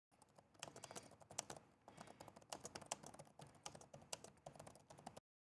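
Keys clatter on the MSI Cyborg laptop keyboard in quick, uneven bursts of crisp clicks, close up and alone for about five seconds.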